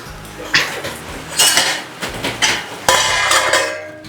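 A leaf-wrapped bhakri, a flatbread cooked inside leaves, is flipped in a pan, making a few sharp clattering knocks and scrapes of metal utensil on the pan, close by, with quieter gaps between them.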